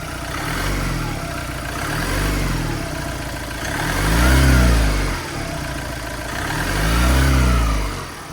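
A 2018 Ford Transit van engine with a small air leak runs close by and is revved in several swells, each rising in pitch and falling back to idle, with no voices over it.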